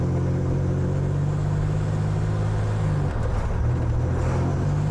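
A 1987 Buick Grand National's engine idles unevenly while still cold, a loud steady low rumble with a droning hum that stumbles briefly partway through, heard from inside the car with no talking.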